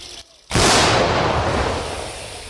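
Artillery shelling near Bakhmut during wartime: after a brief hush, a single loud, close blast erupts and rolls on as a broad, sustained rumble that slowly fades.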